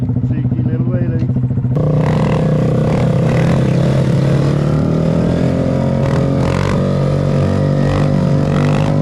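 A Honda Monkey motorcycle's small engine revs hard and steadily up close as the rider pulls a wheelie, loud and continuous.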